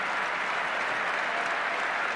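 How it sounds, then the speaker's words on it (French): A rugby crowd at Toulon's home stadium applauds steadily throughout, a dense wash of clapping with no break or swell. "le public toulonnais l'applaudit"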